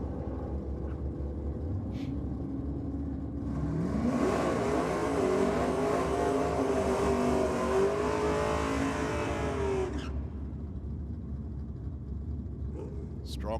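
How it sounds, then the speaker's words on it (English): Pair of Ford cars doing burnouts on the start line at Sydney Dragway, engines rising into a loud sustained roar with tyre squeal for several seconds, then dropping back to a lower rumble. "Strong burnouts on the start line from these pair of Ford products"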